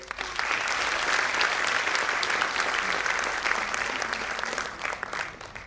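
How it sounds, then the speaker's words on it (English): A school audience claps for two special guests, a loud, sustained round of applause that stays full and even before thinning slightly at the close. "Let us clap for them"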